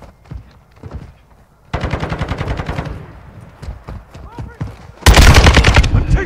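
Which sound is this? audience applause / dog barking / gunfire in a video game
gunfire in a video game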